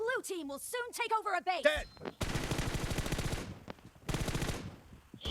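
Rapid automatic fire from an M4 rifle in PUBG Mobile arena play: after an excited voice speaks at the start, two long bursts of fast, loud shots ring out, separated by a brief pause.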